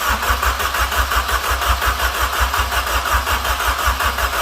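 Honda K20 engine fitted with individual throttle bodies cranking over, a steady pulsing rhythm from the starter without catching, loud and close throughout.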